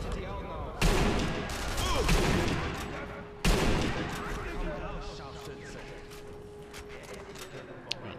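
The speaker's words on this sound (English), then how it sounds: "I am just kind of spamming bullets." Gunshots from the Sniper Elite V2 video game crack out in two loud volleys, each followed by rattling, decaying fire. A person talks over the shooting.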